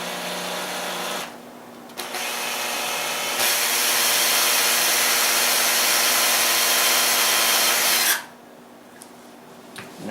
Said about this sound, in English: let's go ahead and drill